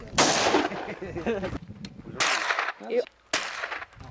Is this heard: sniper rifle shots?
yes